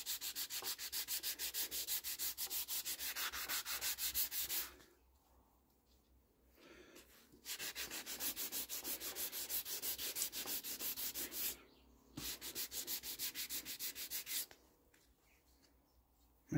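A car panel sanded by hand before a 2K paint respray: long, steady, close rasping strokes in sustained bursts, separated by short pauses.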